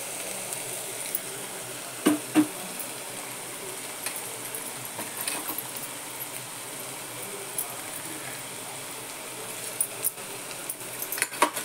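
Cumin and mustard seeds crackle in hot oil for a misal pav curry, giving a steady soft sizzle with a few sharp pops and light clinks, close and fairly quiet, with no talking.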